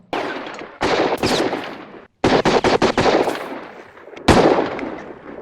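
Sharp gunshots in the 1969 film Butch Cassidy and the Sundance Kid crack in quick bursts, a few spaced shots, then a rapid volley, then another burst, loud with echoing tails.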